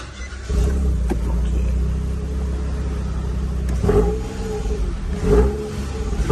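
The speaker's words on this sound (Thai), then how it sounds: "อันนี้กระแทกคันเร่งนะครับ" A Nissan March engine, which has had its fuel injectors serviced and its ECU reflashed, idles with a steady close hum, then rises in two sharp revs as the accelerator is floored.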